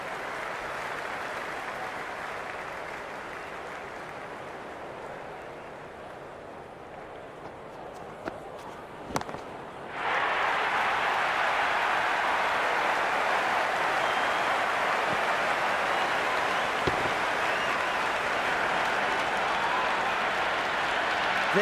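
A cricket stadium crowd in a CSK vs MI match applauds, starting as a distant broad roar and swelling into loud, sustained clapping and cheering, with a commentator speaking over it.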